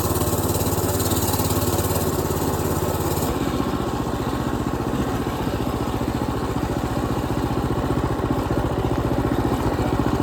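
A mini bike engine runs steadily during a ride, a loud continuous buzzing drone that shifts slightly in pitch early on, then holds at a constant rough hum with no speech.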